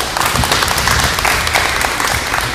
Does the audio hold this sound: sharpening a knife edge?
no